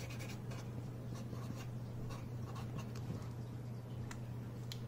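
A pen writes out a chemical formula during a chemistry lesson, giving quiet scratchy strokes close up over a steady low hum and faint room noise.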